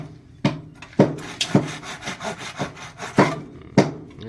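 A hand saw rasps through wood for a pig pen door in a series of irregular back-and-forth strokes, several of them sharp and forceful, heard up close.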